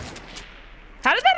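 Light machine gun fire in a video game: a short burst of sharp, loud gunshots cracks in after a second of quiet, two quick bangs close together.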